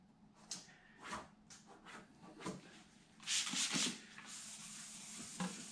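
A plastic car tail light wet-sanded by hand with sandpaper: a series of soft, close rubbing strokes in uneven rhythm, swelling into a louder, sustained gritty rasp near the end.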